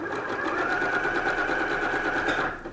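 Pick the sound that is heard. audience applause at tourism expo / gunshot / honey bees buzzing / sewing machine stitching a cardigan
sewing machine stitching a cardigan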